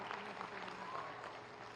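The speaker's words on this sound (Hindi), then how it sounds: "तालियां बजे जरा।" A village crowd at a government certificate ceremony in Azamgarh claps continuously, the applause faint and distant across the whole moment.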